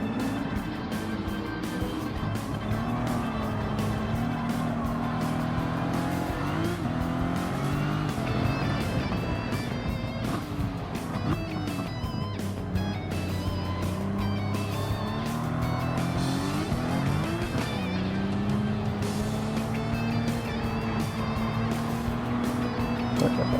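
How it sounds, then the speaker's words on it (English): An untuned Jaguar D-Type races in Gran Turismo 7, its engine droning steadily with rising and falling revs through gear changes and corners, continuous and fairly close with faint tire noise. "driving the Jaguar D-Type, which this ain't tuned whatsoever"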